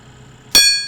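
A single sharp metallic clang as flail mower blades strike 3/4-inch rebar hidden in tall grass, ringing out over a low mower drone and leaving a bright ringing tail.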